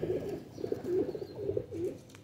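Kamagar Qasuri pigeons cooing close by in soft, repeated rolling coos.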